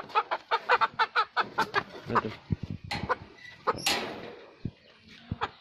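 Hens on a desi (native) chicken farm cluck close by in a rapid run of short, loud calls, followed by a few scattered clucks and thumps.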